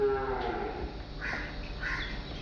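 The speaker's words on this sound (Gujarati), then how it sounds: "અહીંયા સેંકડો ગાયો છે" Several cows low at a crowded cattle shelter housing hundreds of hungry cows, a few drawn-out moos rising one after another over steady low farmyard background noise, fairly close and with no talk.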